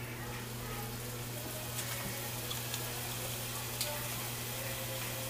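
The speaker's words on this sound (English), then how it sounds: "I'm gonna hit it with a little vinegar." Vinegar splashes into a pan of sizzling vegan étouffée, a steady soft frying hiss with faint pops, low and constant, over a background hum.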